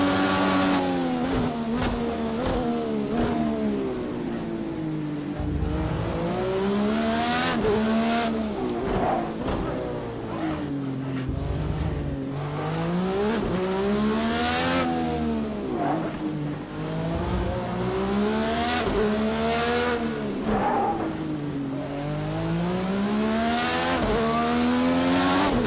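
Race car engine in Project Cars 2 revs up and down through repeated gear changes, loud and continuous, with wheel spin and brief tire squeal along the way.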